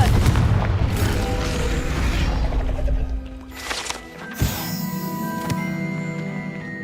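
A Confringo fire spell blasts in the Hogwarts Legacy video game, a loud booming burst rising out of a dense wash of game sound effects and music, with a sharp crack near the middle.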